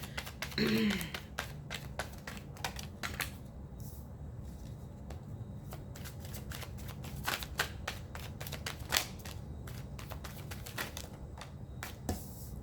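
Tarot cards being shuffled by hand, a quick run of crisp riffling flicks and taps close up, with a voice speaking now and then over the card noise.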